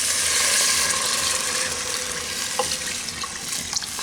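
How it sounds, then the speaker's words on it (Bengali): Boiled milk, about 700 ml, pours steadily onto fried carrot in a pan for Bengali carrot-and-rice payesh, giving a close, continuous liquid splash with faint sizzling and a few small clinks. "এবারে এর মধ্যে আমি দুধ দিয়ে দিচ্ছি।"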